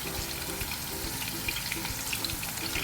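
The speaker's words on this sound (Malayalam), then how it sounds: "ഗീ ഒഴിച്ചിട്ടുണ്ട്, നെയ്യ് ഒഴിച്ചിട്ടുണ്ട്" Ghee sizzles and crackles steadily in a hot pan, a close, continuous frying hiss with light pops throughout and no talk.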